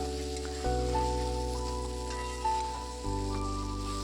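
Water poured into a hot pan of tengra fish curry with young pointed gourd bursts into a loud sizzle, then settles into a steady bubbling hiss that surges again near the end.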